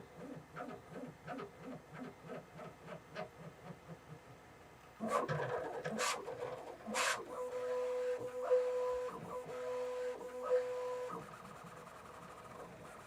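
A Bambu Lab P1P 3D printer lays down its second layer with rhythmic stepper-motor whirs and pulses, then shifts into louder buzzing, a couple of sharp clicks and steady high motor tones, close and without talking.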